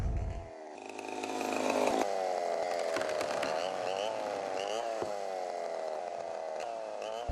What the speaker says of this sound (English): The trees are then hand-milled using chainsaws.